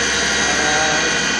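CNC mill spindle running at max RPM, a loud, steady high-pitched whine with a dense broadband hiss that holds constant throughout.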